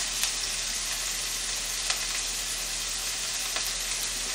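Scallions and garlic sizzle in soy sauce in a hot pan, a dense, steady crackling hiss heard up close, with a few soft stirring scrapes.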